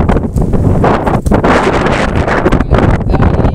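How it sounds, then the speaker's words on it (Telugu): Strong gusty wind shakes the trees around a vegetable garden, loud and continuous, buffeting the microphone with brief dips between the gusts. "ఏంది గాలి"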